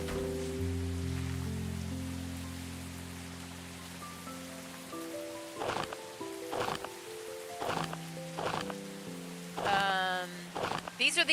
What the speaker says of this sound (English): It sounds like it's raining.